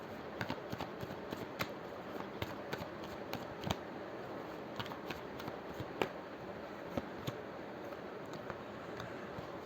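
Osho Zen tarot cards being shuffled by hand, a steady run of soft papery riffles and taps close by, with no talking.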